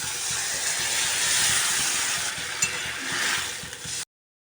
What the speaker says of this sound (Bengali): আমার কষাই করা হয়ে গেছে এক বাটি জল দিয়ে দেব